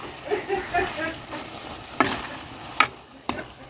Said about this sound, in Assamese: মাছখিনি দিয়া হ'লে ধুনীয়াকৈ অলপ লগাই দিওঁ।